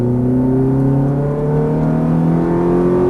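Ferrari F430 engine on a Las Vegas racing track revving steadily upward as the throttle opens, a loud, close, continuous rising drone with strong harmonics and no talk.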